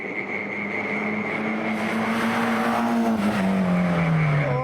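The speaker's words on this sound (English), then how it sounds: "Next rally car's coming," A tarmac rally car roars past on a course in Perth, its engine note loud and close, then dropping in pitch as it passes, with a steady engine drone throughout.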